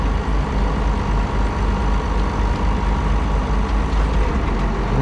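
Blue tractor pulling blue round bale wagons through snow, its engine a loud, steady, close diesel drone with a deep rumbling low end and no pauses.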